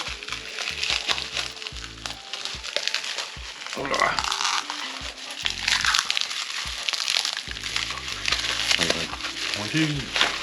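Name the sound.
bubble wrap being cut and crinkled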